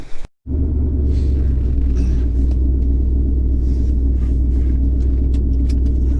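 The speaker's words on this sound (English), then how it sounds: "I'll get this camera mounted and take you for a rip and show you how it works with these new gears." A 2500HD truck with a cammed 8.1 Vortec V8 and 5.13 ring-and-pinion gears driving, a loud, steady deep engine rumble heard from inside after a brief silence, with light rattles and road noise above it.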